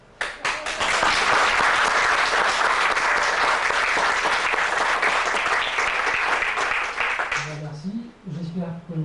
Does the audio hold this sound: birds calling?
no